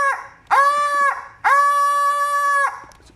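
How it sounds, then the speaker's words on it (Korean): A toy chicken doll lets out two long, loud, honking crows, the second held longer, with a short gap between them and no talking. "닭 인형 울음소리."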